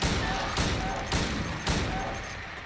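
Repeated gunshots in the survival horror game Silent Hill 2, four sharp reports spaced roughly half a second apart over a dense, loud, noisy game backdrop.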